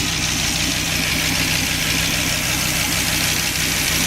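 A 2003 Dodge Viper SRT-10 V10 idles with a dense, steady low rumble, loud and constant throughout at close range.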